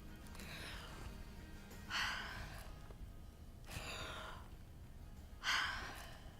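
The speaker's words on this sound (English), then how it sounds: "these are really big breaths that I'm taking" A person on a vocal-training exercise takes big, deep breaths, four long airy inhales and exhales close to the mic, slow and evenly spaced over a low background hum.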